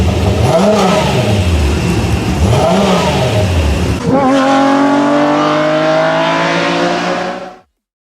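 A BMW M1 with a 3.5-litre, 414-horsepower engine revs loudly and closely, rising and falling several times before settling into a steady high-pitched run that cuts off sharply at the end.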